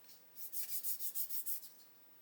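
A sanding stick rubs a small hard part of a 1/8-scale Porsche 917 model kit in quick rhythmic rasping strokes, about ten back-and-forth rubs, close and fairly quiet.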